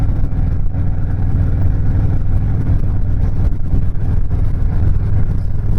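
A custom Stage III Harley-Davidson Sport Glide motorcycle rumbles steadily at cruising speed, its deep engine drone mixed with heavy wind buffeting on the microphone, with no talking.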